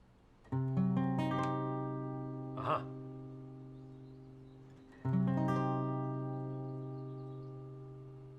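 Two strummed diminished chords ring out clearly on guitar, each left to sustain and slowly decay, with a quieter pluck between them; no talking.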